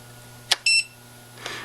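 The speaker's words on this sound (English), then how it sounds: "you'll get one beep indicating that it's in normal channel mapping." A model-aircraft radio receiver (1SQ) gives one short electronic beep on first power-up, with a few faint tonal chirps after it, heard close and alone in a quiet room.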